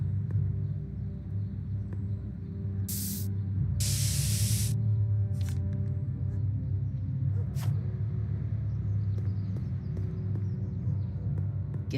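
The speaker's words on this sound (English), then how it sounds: "Give me a can of spray paint. I got an urge to paint something." Spray paint can hissing in the Back to the Future video game, with two short bursts, the second longer, plus a few faint ticks over a steady low ambient rumble.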